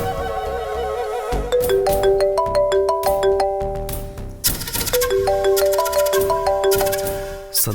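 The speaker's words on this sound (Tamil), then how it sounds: "திவ்யா ஏன் இந்த நேரத்தில் ஃபோன் பண்ணுறா" A phone ringtone plays a bright repeating chime melody, loud and close, with two rising phrases separated by a brief pause.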